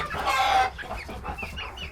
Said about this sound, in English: Alright, here's the Brahma.